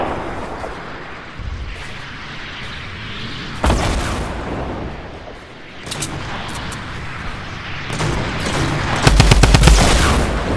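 Rapid gunfire in Fortnite Battle Royale as a player gets shot, with loud bursts of automatic fire and sharp impacts that build to a dense, heavy volley near the end.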